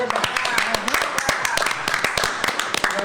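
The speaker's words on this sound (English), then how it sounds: "Round of applause." A live audience claps at a talk show event, a steady, dense patter of applause with voices mixed in underneath.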